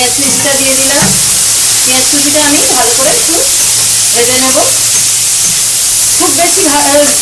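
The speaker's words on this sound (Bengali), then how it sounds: "পেঁয়াজ কুচিটা আমি ভালো করে একটু ভেজে নেব" Chopped onion frying in a pan for pasta gives a loud, continuous sizzle and hiss throughout, while a person talks over it in several bursts.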